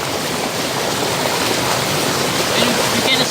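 Water falling beside a creek, a continuous broadband rush and splash that stays steady and fairly loud from start to finish, heard near the flow.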